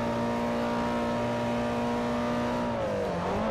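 Opponent's car in Forza Motorsport 4, Hyundai showcase event: a steady, loud engine drone holds a constant pitch, then dips and rises again near the end as the car shifts and pulls away.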